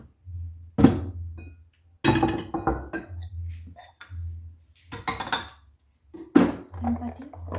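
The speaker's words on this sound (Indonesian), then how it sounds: "Sekarang kita cuci piring bekas masak tadi lah ya" Dishes, pots and cutlery being washed after cooking in a home kitchen, with irregular clinks, knocks and clatters of metal and crockery close by, some loud bumps, broken by short pauses and a little background murmur.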